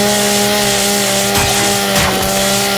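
A chainsaw weapon revs in the shooter video game Gears 5, played on Xbox Series S, as a loud, steady, buzzing motor drone that runs unbroken through the whole moment.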